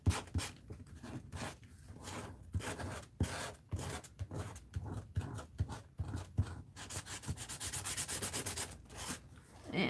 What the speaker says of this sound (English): let's get my palette knife and see what this wax, if I can scrape off some of the wax.